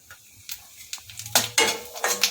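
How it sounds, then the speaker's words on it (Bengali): Cumin and a dried red chili crackle and sizzle in hot oil, with a few quick scrapes and taps of a utensil against the pan, close by and growing louder. "জিরা একটা শুকনো লঙ্কা আমি ফোড়নে দিয়ে দিলাম"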